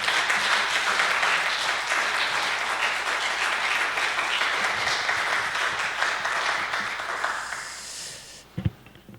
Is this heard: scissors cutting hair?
no